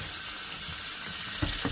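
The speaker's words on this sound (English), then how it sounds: "Just let cold water run across it." Cold water runs from a tap over a hot coffee pot in a farm kitchen, a steady close hiss with louder splashing bursts near the end.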